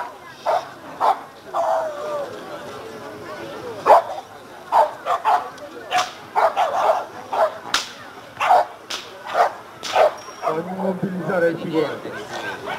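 A dog during bite training with a decoy's sleeve gives repeated sharp barks and yips, some close and loud, with people talking in the background throughout.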